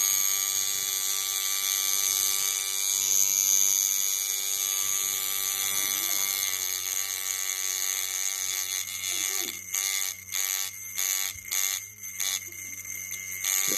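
A coil tattoo machine with a raw 5/16 setup runs with a loud, steady high electric buzz that later breaks into rapid choppy on-off bursts as it starts and stops, close up with no talking.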